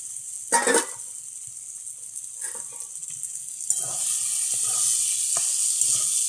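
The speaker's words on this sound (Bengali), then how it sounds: "এখন আমি ভেজে রাখা আলুগুলোকে দিয়ে দিচ্ছি।" Fried potatoes tipped into a sizzling pan of pointed gourd and prawns with turmeric and a little water, a few knocks and scrapes followed by a steady, growing hiss of frying.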